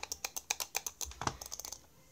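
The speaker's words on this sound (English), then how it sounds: "how to do some really cool clicking techniques like um like butterfly clicking and stuff" Rapid mouse clicking using the butterfly clicking technique, a quick burst of about a dozen sharp, close clicks in uneven rhythm, played alone without speech.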